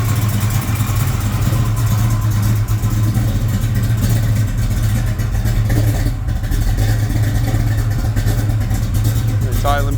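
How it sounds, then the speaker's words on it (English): Engine of a white custom coupe idling steadily and loudly close by, a constant low rumble with a deep throbbing exhaust note that holds even throughout. "It's idling pretty good."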